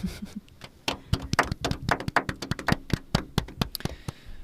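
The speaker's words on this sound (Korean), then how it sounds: "오래간만에 박수 치고 시작하겠습니다" A small group claps their hands at the start of a podcast recording, a quick, uneven burst of close, sharp claps that continues steadily for several seconds.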